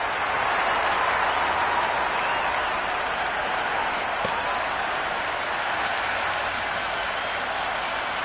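A large cricket stadium crowd at a Big Bash League match between Sydney Thunder and Brisbane Heat roars and applauds in a dense, steady wash of cheering and clapping that holds loud throughout, with no clear break.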